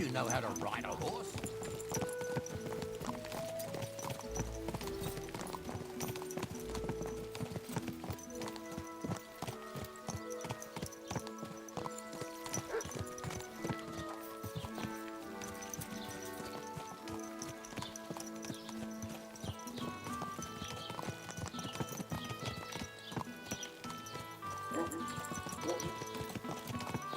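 Horse hooves clip-clop in a steady trotting rhythm while riding in the video game Kingdom Come: Deliverance 2, set under continuous orchestral game music, with a horse briefly whinnying and faint voices in the mix.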